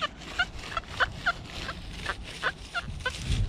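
A metal detector gives repeated faint, squeaky electronic chirps in short uneven bursts over a low background hiss.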